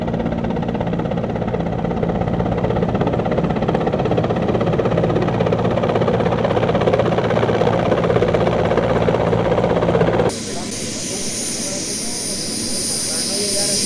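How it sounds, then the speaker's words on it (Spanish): Mexican Navy rescue helicopters drone loudly and continuously during flood rescues in San Lorenzo, a steady engine roar that cuts off sharply near the end, with a voice talking over it. "Hasta ahí llegaron helicópteros de la Marina que rescataron a un grupo de habitantes de San Lorenzo"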